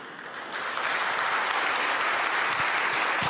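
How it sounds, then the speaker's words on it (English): An audience at a freestyle chess tournament in Las Vegas breaks into sustained applause. Dense, even clapping swells in after a moment and fills the space, loud and steady throughout. "Maybe the audience can give an applause to what he has done with his team here."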